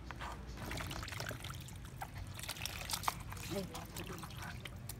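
Running tap water pours and splashes over fresh ginger root as it is rinsed by hand in a home kitchen, a steady close stream under occasional talk.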